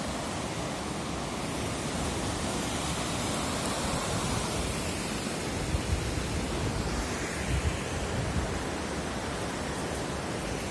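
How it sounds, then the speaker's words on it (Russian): Fast mountain water of the Argun River rushes steadily below a cliff, a continuous broadband roar with a faint surf-like wash and no voices. "Это река Аргун."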